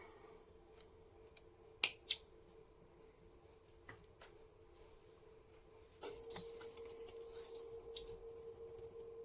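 Scissors snipping yarn during a crochet handbag project: two quick, crisp cuts close by against a quiet background, followed by softer handling noises and faint rustling.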